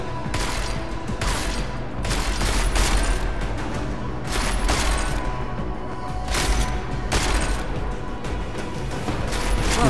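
An automatic turret in Deus Ex: Mankind Divided fires in loud, repeated bursts, each lasting about a second and separated by short pauses, with mechanical clatter between volleys.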